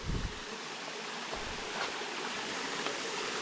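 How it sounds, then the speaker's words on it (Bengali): Thankowain waterfall deep in the Alikadam forest: a steady, close, full roar of falling water that runs without a break the whole time, with no voices. "এই যে দিকে ঝর্ণার পানিগুলো নিচে নামছে"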